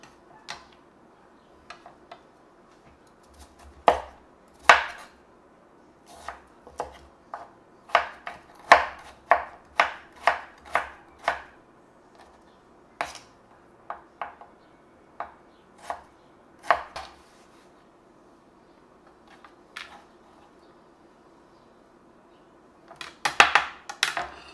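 A knife chopping carrot on a cutting board, a series of sharp close knocks in uneven bursts with quiet pauses between, ending in a quick cluster of cuts, with no talking.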